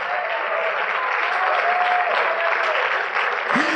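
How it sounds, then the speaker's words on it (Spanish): Steady applause from a church congregation fills the space, a dense patter of clapping sustained throughout with a brief tonal hum in the background. "Aprieta ese aplauso, hermano, porque se lo merece."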